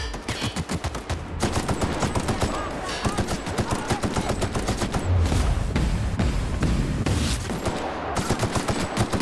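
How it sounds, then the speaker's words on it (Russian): Dense rapid gunfire fills a combat scene in the video game The Outer Worlds, with loud overlapping bursts of shots continuing almost without pause and a dull boom midway. "Кто стреляет?"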